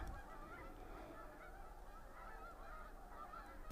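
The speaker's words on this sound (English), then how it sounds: "Plenty of geese moving up there too." Faint honking of geese moving in the distance over a low outdoor rumble, steady and quiet throughout, in New Hampshire woods.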